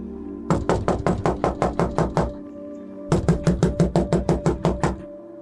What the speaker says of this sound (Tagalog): Malakas ang naging katok ni Lucia sa pintuan ng bahay.